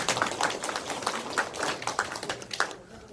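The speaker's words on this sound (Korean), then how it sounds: "큰 박수 부탁드리겠습니다" Audience applause at a public regional citizens' meeting in Hwaseong, a dense patter of many hands clapping steadily for about three seconds before trailing off.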